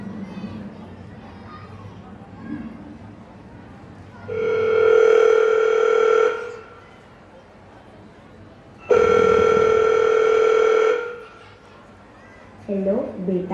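An outgoing phone call to a son rings twice, with two long steady ringback tones separated by a pause, loud and clear over faint background chatter at an annual school fiesta stage show.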